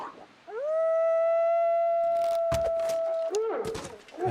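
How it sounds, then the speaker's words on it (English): A wolf in The Long Dark, played on Interloper difficulty, lets out one long, rising then steady howl in the snowy wilderness, followed by thuds and scuffling game sounds. "Caught you howling."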